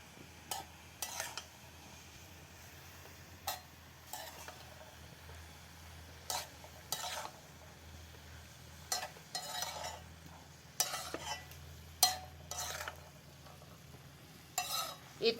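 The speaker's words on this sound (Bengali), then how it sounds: "এখন আমি এইভাবে ভালো করে শুকনো শুকনো করে কষিয়ে নেব" A spiced filling being stir-fried and dry-roasted in a pan until dry, with repeated scraping and clinking strokes of a spatula over a faint background sizzle, coming in irregular bursts.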